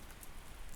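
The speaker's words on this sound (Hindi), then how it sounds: "वर्षा अब और तीव्र हो गई है।" Heavy rain pours down in a dense, unbroken hiss of countless drops hitting surfaces, steady and enveloping without pause across a brief moment, with no voices.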